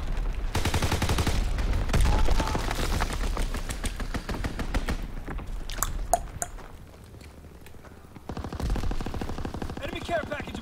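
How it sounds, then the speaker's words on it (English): Rapid machine-gun fire from an enemy strafing run in Call of Duty WWII multiplayer, loud clattering bursts that come and go over about ten seconds amid other battlefield noise. "Enemy strafing run inbound."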